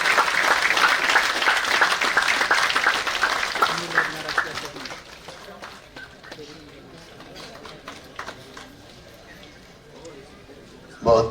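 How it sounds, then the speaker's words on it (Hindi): At an Urdu book launch ceremony in Aurangabad, a crowd claps loudly, the applause dense at first, then thinning into scattered claps and fading toward the end. "जोरदार तालियों की गूंज में"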